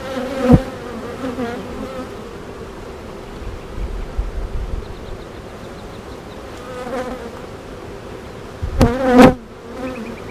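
Honey bees buzz steadily around an open hive during a frame-by-frame inspection, a continuous insect drone with a few louder passes close by and brief handling knocks, without speech.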